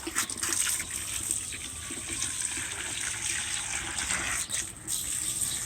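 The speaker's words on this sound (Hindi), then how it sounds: "मैं पौधों को पानी देने लगी" Water runs steadily for watering garden plants outdoors, a continuous hiss and gush with no one speaking over it.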